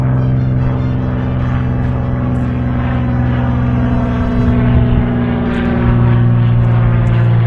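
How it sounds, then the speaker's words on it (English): A Supermarine Spitfire propeller aircraft flies overhead at a Battle of Britain event, with a loud, steady engine drone that holds throughout and swells slightly toward the end. "That's the Spitfire."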